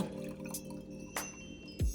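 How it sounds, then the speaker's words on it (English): Homemade healthy spice tea is poured into a glass, giving a few soft drips and light splashes over a steady background, ending with a short clink near the end. "That's our tea right there, and I'm going to pour it in here."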